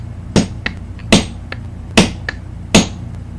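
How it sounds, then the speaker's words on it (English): A hammer drives fill material down into a fountain firework tube, striking four loud, evenly spaced blows close by with faint lighter taps between them. "I'm going to drive it down with a hammer."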